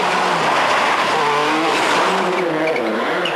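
A Subaru rally car slides through a stage of the 1999 Monte Carlo Rally, its engine note rising and falling steadily with tyre scrub, close and loud throughout with no talk.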